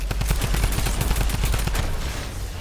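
Rapid bursts of gunfire from the Fortnite video game, loud and continuous, with shots running together in a fast rattling volley over a dense, steady background.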